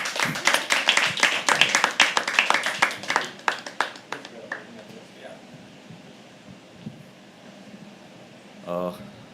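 A poetry open mic audience claps as a poet comes on stage, loud dense clapping that gradually thins and fades out, then a brief voice at the end.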